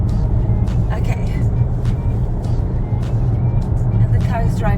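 Steady interior road noise inside a Volvo XC40 driving itself at speed on the road, a constant low tire and engine rumble with brief chimes and a voice talking over it.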